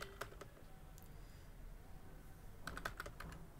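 Fingers type text on a computer keyboard in a quiet room, with a few scattered keystrokes early on, then a quicker cluster of clicky presses near the end.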